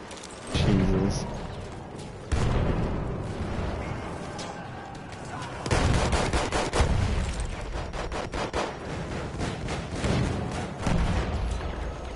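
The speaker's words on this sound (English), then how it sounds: "Damn, explosion mania over here." Battlefield 1 combat: sharp gunshots and machine-gun rattle punctuated by several heavy explosions, each blast jumping out loud before settling into ongoing crackling fire.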